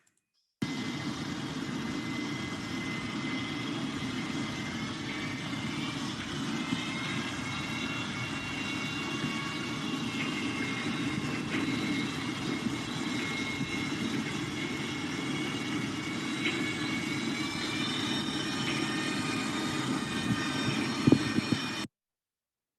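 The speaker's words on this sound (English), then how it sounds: "you're hearing a boat, propeller in a boat, but you're also hearing this clacking in the background, which is pile driving" Underwater in deeper bay water near Angel Island, a boat propeller churns as a continuous low drone, with faint repeated clacking from pile driving in the background.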